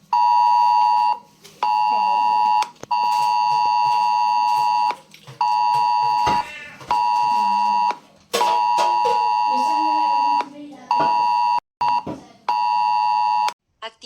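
Mobile phones in Málaga sound an AEMET red-alert storm warning: loud repeated electronic tone bursts in short rhythmic pulses with brief gaps, and voices speaking in between.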